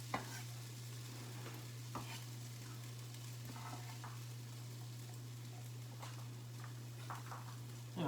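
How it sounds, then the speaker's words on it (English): Potato patties fry in hot oil, a faint quiet sizzle with occasional small pops and stirring clicks over a constant low electrical hum. "Okay, I can tell my oil is heated up. Let's put these potatoes in."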